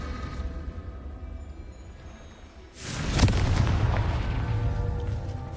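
Confringo explosive spell from Hogwarts Legacy going off in one loud burst partway through, with a sharp crack and a sustained roaring rumble that carries on to the end after a quieter stretch.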